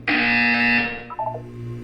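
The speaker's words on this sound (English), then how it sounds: "You will hear a buzzer." A loud electronic buzzer tone from the video game Portal 2 sounds alone for about one second, with a sustained harmonic drone, then cuts off into a short fading echo over a low background hum.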